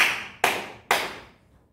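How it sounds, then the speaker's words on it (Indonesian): A child claps hands three times in a classroom timing exercise, three sharp, evenly spaced claps close by, each with a short ringing decay and no talk. "Coba tepuk tangan 3 kali."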